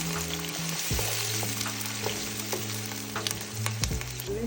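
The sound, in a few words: chopped onions and bay leaf frying while stirred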